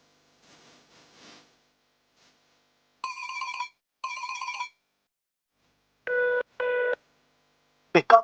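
A telephone rings repeatedly and goes unanswered, sounding in separated tonal bursts of varying pitch with silent gaps between them and no voices.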